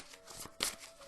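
A deck of unicorn oracle cards is shuffled in a quick, soft riffling burst, quiet and close, with a sharper flurry near the middle.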